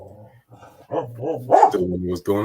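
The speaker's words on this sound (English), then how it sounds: "My dog is in the crate right now" A dog shut in a crate at home growls, whimpers and gives short bark-like yips in the background while someone talks over it on a podcast recording.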